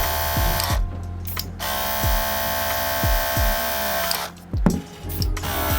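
Tomb45 BeamTeam XL cordless compressor running at its first speed, a steady close electric motor hum and whir with a few brief dips and pulsing surges as it cycles.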